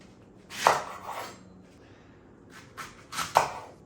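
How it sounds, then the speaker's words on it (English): A knife chops through leeks on a cutting board in a home kitchen, giving a few crisp, separate cuts at close range with quiet pauses between them. "We're gonna chop up our leeks and I'll show you how to wash them."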